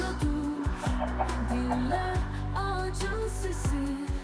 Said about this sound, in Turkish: Anne tavuk var.